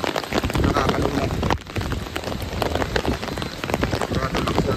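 Steady rain falls at Taiping Suspension Bridge in Meishan Township, Chiayi County, Taiwan, a dense, continuous patter drumming on nearby surfaces, close and loud throughout with a brief dip midway.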